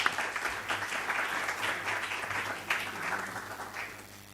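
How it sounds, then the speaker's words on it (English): A tribute-event audience in Berlin claps steadily for about four seconds, a moderate, fairly distant wash of hands with no voices over it. "let's give them an applause"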